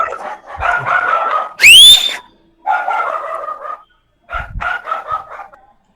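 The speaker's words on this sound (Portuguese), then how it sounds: "Deixa o cachorro latir, ele tá querendo participar, irmão." A dog in a podcast room barks in several bursts, with one short high crowing or yelping cry in the middle and gaps of quiet between barks, close and fairly loud.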